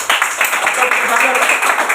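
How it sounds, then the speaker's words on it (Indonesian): A short burst of clapping in a classroom-style lesson, rapid and dense, with a voice heard over it, close and fairly loud for about two seconds. "Tepuk tangan Umi dulu."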